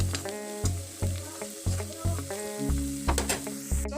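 Cumin seeds fry in hot oil in a pan for Assamese-style cabbage paratha. A soft sizzle sits beneath louder rhythmic background music, with no voices.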